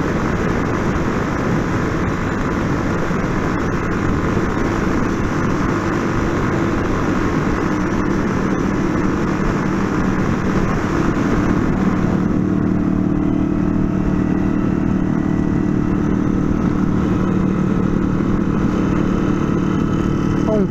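Motorcycles ride along a highway on a trip toward Aparecida, São Paulo, with a loud, continuous engine drone and wind roar that shifts in tone partway through.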